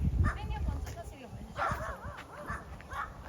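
A small sausage dog yips and barks on a hiking trail up Mount Ngungun in the Glass House Mountains. Several short, sharp barks come close by while people talk over them.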